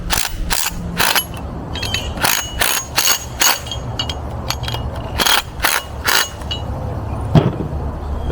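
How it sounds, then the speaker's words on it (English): Ratchet clicking as a 14mm socket tightens a bolt on a coolant filter bracket on a 6.0 engine, in a series of sharp, close mechanical clicks and bursts with short pauses between them. "Then the next step is to tighten the bracket down with a"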